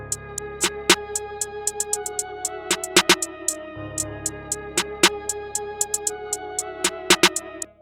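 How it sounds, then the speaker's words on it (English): Programmed snare pattern built in Ableton Live 11, with a soft low-velocity ghost snare just before the main hit and a double snare striking twice on the second count, crisp and steady alongside other drum hits. "So I'll add a little snare right before it and then turn the velocity down."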